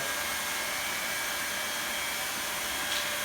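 A hot air welding gun running at full speed seals a seam in vinyl sheet flooring, producing a loud, continuous blowing hiss that holds steady from start to finish with no voices.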